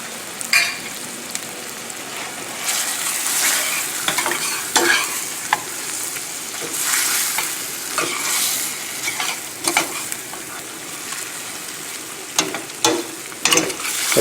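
Flour goes into shrimp pasta with garlic, ginger and red onions in a pan over a very high flame; a steady hiss of sizzling runs throughout, punctuated by sharp clicks and scrapes of stirring, with no talk.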